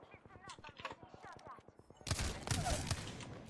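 Gunfire in Apex Legends, heard as a sharp burst of rapid shots that begins partway through and sounds loud and close, after a stretch of quieter buzzing game sound.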